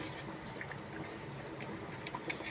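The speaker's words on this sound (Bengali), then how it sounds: "ঝোলটা প্রায় ফুটেই আসছে" A thin stingfish broth with green banana and potato simmers, giving a faint, soft bubbling and trickling with small pops and no voices.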